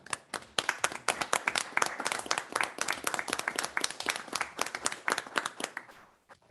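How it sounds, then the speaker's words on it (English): Council meeting members applaud a staff report, a fairly close ripple of individual hand claps in an irregular flurry that runs for about six seconds before stopping abruptly. "And I think we should all give you a clap."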